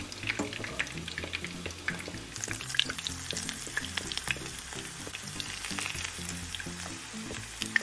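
Gluten-free beef taquitos fry in a shallow layer of oil in a pan, giving a steady close sizzle with scattered crackles and pops and a few clatters as a taquito is turned.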